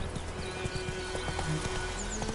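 Roach the horse gallops in The Witcher 3, a quick rhythmic clip-clop of hooves against a steady game background hum, with a brief snort or whinny partway through.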